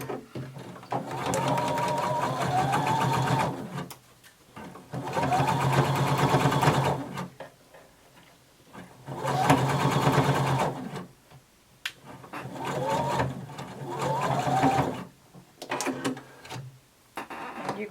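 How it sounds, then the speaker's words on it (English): A sewing machine stitches the side seams of a fabric band in four long runs, a close steady whirring hum that stops and restarts with short pauses between seams. "now we're going to sew across the sides of our band"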